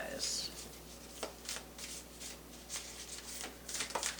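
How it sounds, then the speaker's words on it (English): Love oracle cards shuffled by hand at close range during a tarot reading, a run of soft riffling bursts and taps with brief pauses, quiet and intimate. "let's grab some love oracle cards for you guys"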